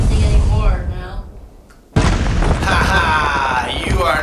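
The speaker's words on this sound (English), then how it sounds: "This is the first day you've ever shot a cannon." A cannon blasting a castle in the Castle Blast mobile game: a loud booming shot lands near the two-second mark after a brief lull, with busy game effects and music filling the rest.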